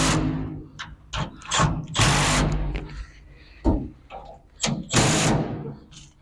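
A wing being bolted onto a 1968 Chevy G20 van: loud, close bursts of ratcheting wrench clicks and metallic clunks come in irregular spurts, with short pauses between turns.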